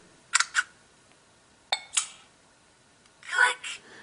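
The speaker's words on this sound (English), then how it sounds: "so you can change the shutter noise, so let's take a listen. This is standard." An LG Lucid phone camera's standard shutter sound: two quick clicks twice in succession, followed by a longer, fuller shutter-like burst; crisp and close, with quiet pauses between.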